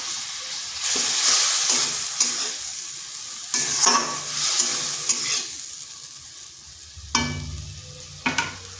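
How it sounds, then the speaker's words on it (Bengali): Dry spices frying in a pan burst into loud, hissing sizzles as a little water hits them, swelling and fading in several waves with scraping stirs between them. "সামান্য একটু জল দিচ্ছি। শুকনো মশলা তো, যাতে না পুড়ে যায় তার জন্য জলটা দিলাম।"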